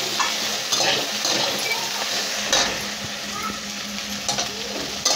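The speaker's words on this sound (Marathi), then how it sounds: "आता आपण भेंडी टाकून द्यायची। छान असे परतून घ्यायचे तेलामध्ये लसणाच्या फोडणीमध्ये।" Sliced okra is stir-fried on full flame in oil with reddened garlic tempering, giving a steady close sizzle broken by regular scraping stirs of the spatula.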